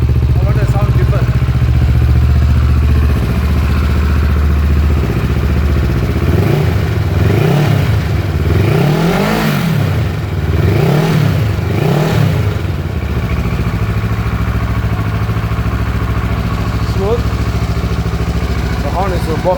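A motorcycle with an aftermarket exhaust idles loudly up close, then gets three quick rising-and-falling throttle revs in a row before settling back to a steady idle.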